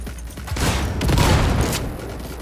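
Grenade blasts from the Cyberpunk video game combat, a dense rolling barrage of booms and crackling gunfire that swells to a loud peak midway and stays steady to the end, with no talk over it.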